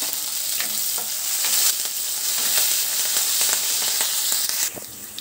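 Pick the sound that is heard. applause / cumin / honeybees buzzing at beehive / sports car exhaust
cumin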